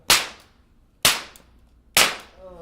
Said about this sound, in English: 3 shots. Probably from a Webley 45.